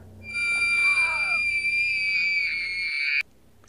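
Young girl Esther, from the film Orphan, lets out a piercing, sustained high-pitched scream that holds for about three seconds before cutting off abruptly, with a brief wavering cry underneath near the start.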